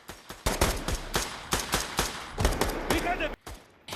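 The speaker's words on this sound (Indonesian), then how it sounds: "Akibatnya baku tembak terjadi antara Yas dan Zurab." A film shootout with rapid, loud bursts of gunfire, repeated sharp shots in quick irregular volleys over a few seconds, with shouting mixed in.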